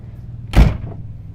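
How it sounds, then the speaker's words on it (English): Door of a 2020 Newmar Baystar 3609 motorhome swung shut once with a single solid thud, generator and air conditioning humming faintly before it and muffled after. "I'm going to close this door and you'll hear a difference."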